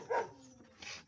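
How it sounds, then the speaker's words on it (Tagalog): A dog gives a short bark or two close by, a quick yip followed by a softer second one, brief and not very loud. "maingay ang aso"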